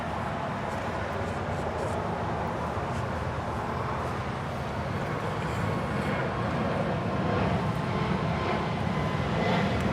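A jet airliner taking off at Los Angeles International Airport, heard as a loud, steady broadband roar that holds evenly for the full ten seconds.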